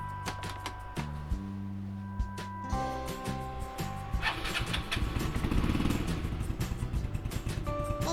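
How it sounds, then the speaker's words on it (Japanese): A Yamaha Majesty 125 scooter with a charging fault is started up close: the starter whirs and turns over briefly, then the engine catches and settles into a steady, buzzing idle. "エンジンをかけます。"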